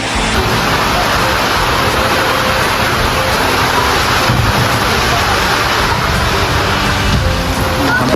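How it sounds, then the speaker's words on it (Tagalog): Heavy rain pours down in a steady, loud broadband roar on a house-building site, unbroken throughout with no voices on top. "Malakas na naman ang ulan."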